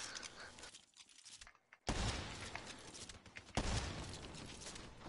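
Gunfire in Call of Duty Black Ops 3 comes through as two sudden loud bursts of shooting, the first after a quieter lull, each followed by dense crackling battle noise.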